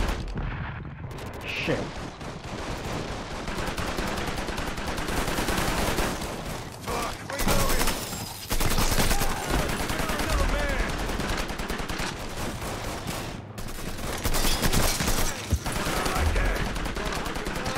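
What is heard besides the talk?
gunfire in the video game Mafia 3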